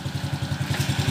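Raider J115 Fi motorcycle engine running during a road test, a steady, close, rhythmic putter with evenly spaced low pulses and mechanical clatter.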